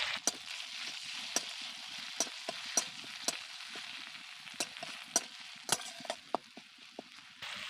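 Ginger, garlic and onion paste fries in a pan with a faint, steady sizzle, broken by sharp, irregular spatula clicks and scrapes against the metal as it is stirred. There is no talking.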